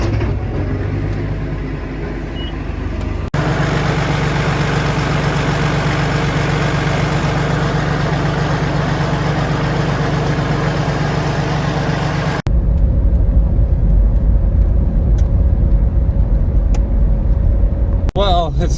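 A John Deere tractor engine idles in a driveway while warming up, a steady low rumble that runs unbroken, shifting to a different idle tone near the end.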